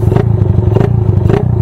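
A Raider 166 motorcycle engine fitted with a quick throttle runs loud and close, its steady low idle rising in two short revving bursts.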